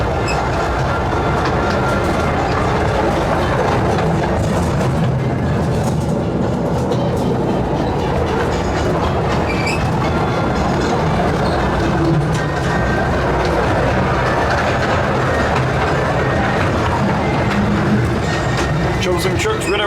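A small-gauge theme park train runs toward Thomasland at Drayton Manor, with continuous loud rumbling and rhythmic clickety-clack of wheels on track, heard from on board for the full stretch.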